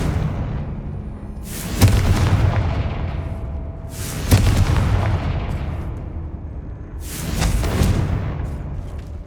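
Three heavy Confringo blasting-spell explosions in Hogwarts Legacy inside the Feldcroft catacomb, each a sharp loud boom with a rumbling tail that fades before the next, spaced about two and a half seconds apart.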